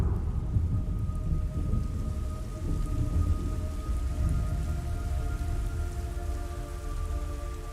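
Steady heavy rain pours throughout in the video game Metal Gear Solid Delta: Snake Eater, with a low rumbling undertone and a faint sustained hum, no voices.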